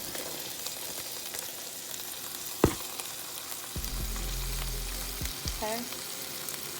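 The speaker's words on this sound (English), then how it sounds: "I'm going to go ahead and add my onions." Onions frying in a pot for oxtail gravy, a steady close sizzle with a sharp knock of utensil on pot and some low rumbling handling noise partway through.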